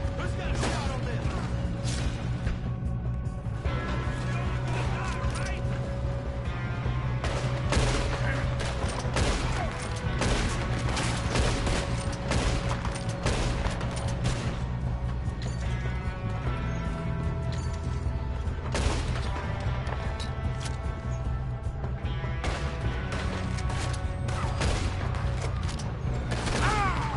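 Repeated gunshots ring out during a train robbery in a video game, sharp volleys over rumbling train and mechanical noise, with voices talking throughout.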